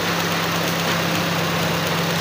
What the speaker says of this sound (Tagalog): hindi gumagalaw ang makina. Pero umandar yan, naka-andar yan